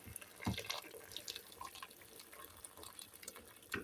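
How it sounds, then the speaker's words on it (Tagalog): Boiling water splashes and trickles into a pot of chicken in a quiet, close pour, with a few brief louder gushes and drips. "kumukulong tubig na ang ating ibuhos"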